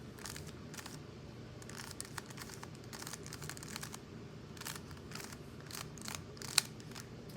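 A Rubik's cube turned quickly through an algorithm to solve the yellow side: a close, steady run of dry plastic clicks and clacks in rapid bursts, with one sharper snap near the end and no talking.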